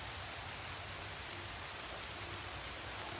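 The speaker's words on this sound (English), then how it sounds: "You can probably hear it raining around me now" Steady outdoor rain falls evenly in a wooded area near a tree stand and cleared trails, a dense continuous hiss with no breaks and no voices.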